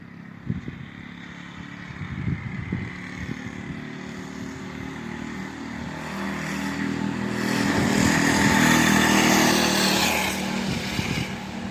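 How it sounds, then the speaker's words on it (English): Small-engine mini bikes ride around outdoors, one drawing nearer from far off, its engine drone swelling gradually from faint to loud with uneven revving. "recording my friends riding their mini bikes out here on YouTube"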